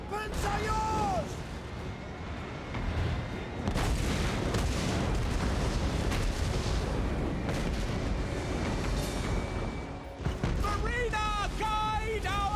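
Great cannon artillery booms out across a modern-warfare battle in the video game Total War: Warhammer 3, heavy blasts layered over dense combat noise with voices speaking throughout.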